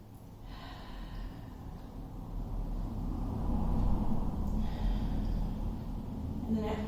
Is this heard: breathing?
yes